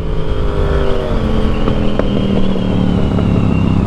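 Motorcycle engine revved hard with the throttle, a loud close droning roar with rising and falling pitch, heard alone without talk.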